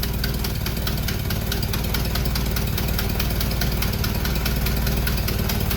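A Jeep engine runs steadily after its fuel pump is switched on, a loud, close, unbroken idle with a rough, knocking rumble that holds for the whole stretch.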